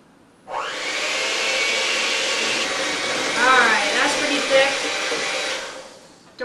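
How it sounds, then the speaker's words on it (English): An electric mixer on low speed whirs steadily through milk and cream cheese in a kitchen, a loud continuous motor hum that switches on abruptly and runs for several seconds before winding down, with a brief voice heard faintly midway. "And turn on the mixer on low."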